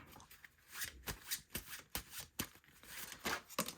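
A deck of tarot cards is shuffled close up in quick bursts, a rhythmic series of soft papery swishes and slaps roughly every half second, with no one talking.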